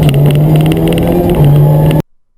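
A rally car accelerating hard on a stage of the Manumbar Rally, its engine a loud, close, steady drone that holds for about two seconds before cutting off abruptly.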